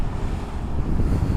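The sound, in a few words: wind on the coast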